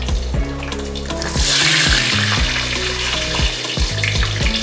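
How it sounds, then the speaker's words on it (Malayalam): Mustard seeds crackle and pop in hot oil alongside green chillies, curry leaves and peanuts while cooking broken wheat upma, a steady close sizzle with sharp bursts of spluttering throughout, no voices. "കടുക് പൊട്ടി വരുന്നുണ്ട്."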